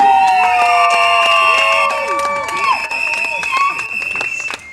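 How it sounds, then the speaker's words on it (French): Guests at a civil wedding ceremony clapping and cheering, with high whoops, shouts and ululating voices over scattered claps, lively and close, fading at the end. "Applaudissez pour lui."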